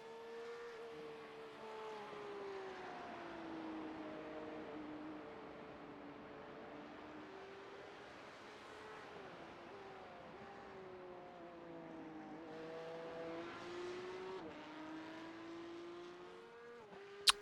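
A Porsche Cup race car in a racing simulation at Fuji circuit drones along the track, its engine note climbing through gears and dropping on upshifts in repeated sweeps, moderately loud and continuous, with no voices.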